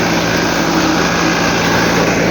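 A tractor engine runs close and loud in a steady, unbroken drone with a buzzing edge, continuous and without talk throughout.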